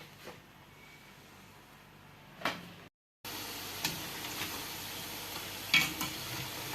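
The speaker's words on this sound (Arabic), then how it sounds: "من بعد ما سخن لي الزيت انا درت البريواس ديالي وغادي نبدا نقلي" Briouats, Moroccan filled pastries, frying in hot oil: a soft steady sizzle with a few light clicks and knocks from utensils, briefly cut off, then resuming slightly louder.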